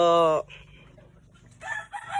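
A nearby conditioned gamecock finishes a loud crow, then after a quiet gap softer clucking calls follow.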